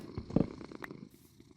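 A pet cat purring in a relaxed video game, a soft low rumbling purr close by with a brief louder swell, alone without talk.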